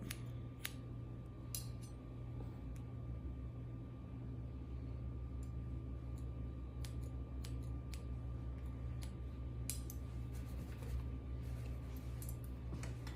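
Scissors snip hair during a layered haircut, giving sparse, faint clicks spread unevenly over a steady low hum in a salon, with no talking.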